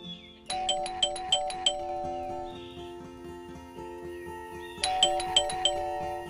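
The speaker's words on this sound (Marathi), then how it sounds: "मी वाजवली होती ना बेल?" A doorbell rings in two separate bursts, each a bright run of five or six chiming tones, fairly close, with a low hum beneath.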